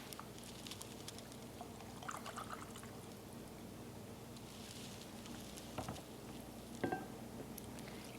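Rice milk poured into an allergy-friendly pizza dough mixture, making a quiet, steady liquid trickle and patter with a few light knocks, close by and without speech.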